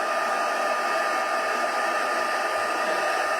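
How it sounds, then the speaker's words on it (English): A heat gun blows a steady, loud stream of air over a bleached, stamped greeting card to dry it, one continuous rushing whoosh with no talking and no pauses. "I might put the heat gun to it."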